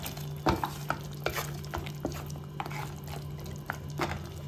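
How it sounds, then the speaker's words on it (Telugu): Spoon stirring meat curry coated in chili powder in a pan, with soft scraping strokes, wet sizzling and a steady low hum beneath, close and moderately quiet. "ఈ కర్రీని బాగా కలుపుకొని ఈ కారం అన్నీ ముక్కలకు పట్టేలా కలుపుకోవాలి బాగా"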